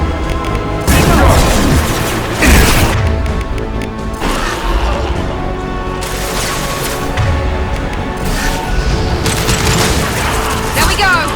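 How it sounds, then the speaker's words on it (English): A concussive shot fires in Mass Effect 2 amid sci-fi combat: heavy booms and crashing impacts burst out repeatedly over a dense, constant wash of battle noise and mechanical hum. "Firing concussive!"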